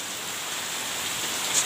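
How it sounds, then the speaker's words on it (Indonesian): Rain falling in an Indonesian village, a steady, soft hiss of drops on surfaces that holds an even level throughout, with no talking. "suasananya mantep banget kalau hujan."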